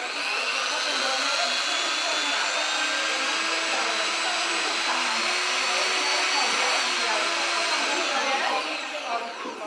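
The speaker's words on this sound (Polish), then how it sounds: "My, żeby nie kręcić ręcznie tej bibuły, wymyśliliśmy sobie e, wiertarkę." An electric drill twists coloured tissue paper into string, giving a steady, close motor whine that holds unbroken for several seconds before tapering slightly at the end.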